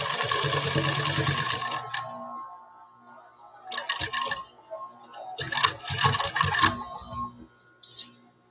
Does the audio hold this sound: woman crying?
no